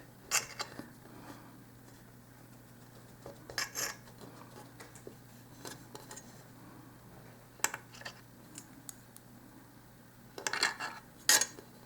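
A knife cuts a small potato into thin wedges on a board, giving sparse sharp clicks and taps in irregular clusters against a quiet background hum.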